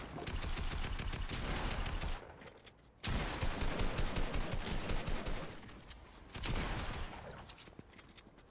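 Rapid automatic gunfire rattles continuously in a video game such as Fortnite, loud and dense, broken by a short pause near the middle and a softer dip later, with no talking.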